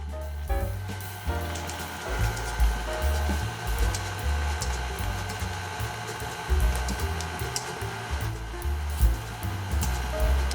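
An electric mixer churns oatmeal chocolate chip cookie dough with a continuous close whirring drone and low, pulsing motor undertones, steady and uninterrupted with no voices.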